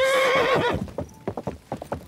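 A horse in the video game Kingdom Come: Deliverance II gives a loud, close whinny, followed by a steady run of clip-clopping hooves.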